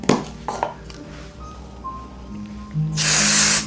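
An aerosol adhesive spray hisses in near the end, loud and steady for under a second, after some light clatter and handling noises while embroidery stabilizer is sprayed.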